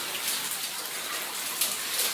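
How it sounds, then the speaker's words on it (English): Heavy rain pours down a mine shaft near the hoist level, a steady hissing wash of falling water that stays even and close throughout, with no one talking. "it's pissing rain down there"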